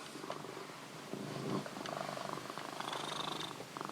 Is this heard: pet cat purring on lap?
yes